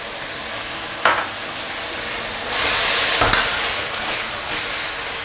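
Stir-frying in a wok after scallions go in, a continuous loud sizzle with sharp scraping strokes of the spatula and a surge of hissing partway through, heard close.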